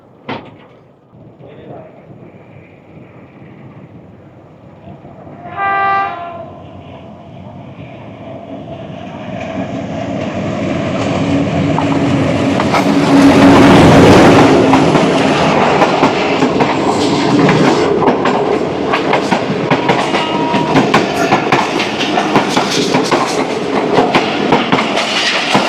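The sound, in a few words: passing 36 Down Sir Syed Express train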